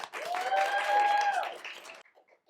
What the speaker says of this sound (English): Mad Mule applause for Valaria.